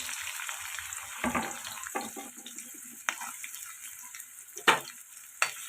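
Sliced onions and curry leaves fry with fenugreek seeds in oil for a Kakinada-style fish stew, a quiet, steady sizzle close by, broken by a few sharper stirring scrapes and clinks, without speech.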